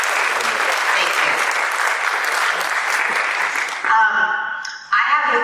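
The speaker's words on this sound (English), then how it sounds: "I'd like to give another round of applause to all of law enforcement that's here tonight" An audience at a Berwyn police community event on sex trafficking awareness applauds law enforcement officers, a dense, sustained round of clapping that fills most of the clip before thinning out, followed by a brief burst of other sound.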